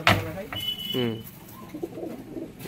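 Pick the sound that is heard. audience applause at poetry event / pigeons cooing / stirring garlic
pigeons cooing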